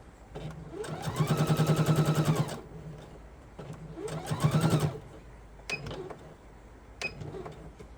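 A sewing machine stitches elastic with contrasting cotton thread, running close to the edge in two humming bursts of a few seconds each, with quieter handling clicks between them.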